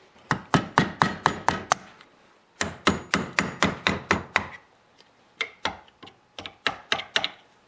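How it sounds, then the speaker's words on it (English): Sharp metallic hammer taps on a flat screwdriver prying a seized ring from a piston, in quick rhythmic bursts, several runs of rapid strikes separated by short pauses, close and clear with no talking. "I'm going to pry that ring out with a flat screwdriver and a hammer"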